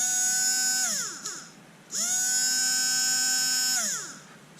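A Bosch Ixo cordless screwdriver's small electric motor runs with a steady high whine, winding down near the one-second mark, then restarting about a second later and running steadily before slowing again near the end.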